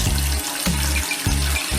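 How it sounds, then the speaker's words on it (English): Tap water running into a slow, partly clogged sink drain, a steady loud rush with brief dips in rhythm, close by and alone. "So you run the tap and"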